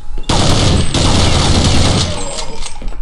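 Sustained, loud M14 rifle fire in the zombie shooter Counter-Strike Nexon Zombies, a dense near burst of rapid shots running almost unbroken for nearly three seconds.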